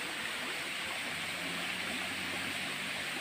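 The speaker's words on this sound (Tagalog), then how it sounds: "yan ang bagsakan ng tubig" A constant, dense rush of falling water, a steady broadband roar from a man-made waterfall with no pauses.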